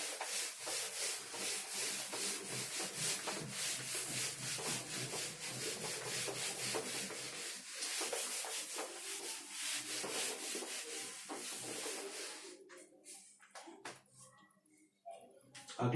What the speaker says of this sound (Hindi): इसको मैं रब कर देता हूँ पूरे को।